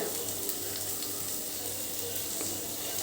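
Cabbage, carrot, capsicum and onion sauté in a hot pan for veg manchurian, giving a steady close sizzle with soft stirring scrapes throughout and no talking.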